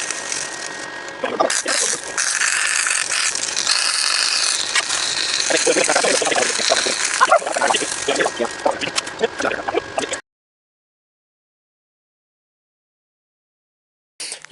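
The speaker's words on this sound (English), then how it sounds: "let's get the welder fired up, which hell it already is, and start tacking this together, getting it locked" Crackling, buzzy arc of a welder tack-welding a lawnmower transaxle differential to lock it, loud and close with a dense sputter for about ten seconds before cutting to silence, then a brief return at the very end.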